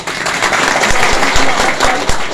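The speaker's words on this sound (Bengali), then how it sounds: "অধ্যাপক কাজী গোলাম মোর্শেদকে একবার করতালি দিয়ে অভিনন্দন জানাই" Crowd applauding to congratulate Professor Kazi Golam Morshed at a campaign gathering in Natore, loud dense clapping sustained throughout with a few sharper nearby claps standing out.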